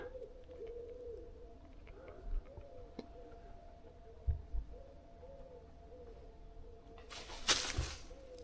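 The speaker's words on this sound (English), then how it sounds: "Just birds, mate, just birds." Pigeons coo softly and repeatedly in the background, a low rhythmic murmur, with a few knocks and a brief rustle nearby.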